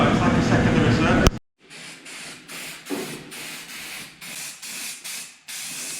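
Aerosol rattle-can paint sprayed on a Supra Turbo headlight: one long loud hiss, then a sudden stop and a string of shorter, quieter spray bursts in a regular rhythm, close by.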